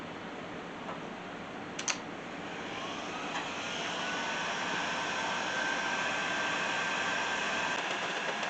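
A Milwaukee adjustable heat gun runs with a steady, continuous rush of blown air, holding an even level throughout with a faint tonal whine and a couple of brief clicks near the start; no one speaks.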